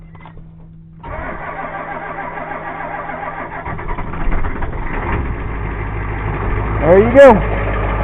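A cold Ford 7.3 IDI diesel running on roughly 70% motor oil and 30% diesel cranks and catches, then settles into a loud, steady clattering idle, with a brief voice over the engine.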